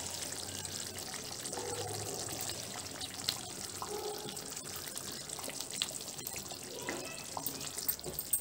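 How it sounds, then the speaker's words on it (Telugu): Cubed Nandini paneer cooks in a pan over a low flame, giving a steady soft sizzle and faint bubbling with occasional light clinks and stirring, all fairly quiet and continuous. "కట్ చేసి పెట్టుకున్న పన్నీర్ వేసి లో ఫ్లేమ్లో ఉడికించుకున్నామండి"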